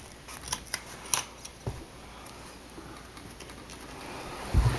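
A frieze-style carpet insert being trimmed, with a series of short, sharp cutting snips close by, irregularly spaced and mostly alone, followed by a louder thump near the end.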